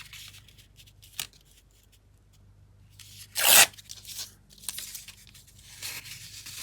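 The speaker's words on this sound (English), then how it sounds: "Just tear it off." Paper flowers are torn off a craft page in one short, sharp rip, close by, among quieter rustling and handling of paper.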